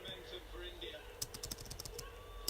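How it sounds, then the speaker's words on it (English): Keys and the spacebar on a computer keyboard that sounds almost mechanical are pressed in a quick, irregular run of sharp clicks, faint and close, following a quiet stretch of low hum. "hear that keyboard. That sounds almost like a mechanical keyboard"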